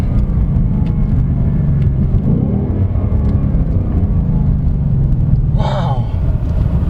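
A 2024 Ford Mustang GT V8 rumbles loud and steady from inside the cabin on a test drive, its engine drone continuous throughout, with excited talk over it and a brief higher rev near the end.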